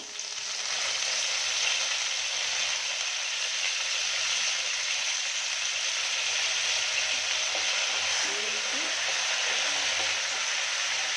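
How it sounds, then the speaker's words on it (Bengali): Black mustard seeds and curry leaves fry in hot tempering oil for upma. A loud, steady, hissing sizzle runs unbroken throughout, with faint crackles and pops mixed in. "এবার আমি কালো সরষেটা দিয়ে দেব ফোড়নে, সাথে দেব"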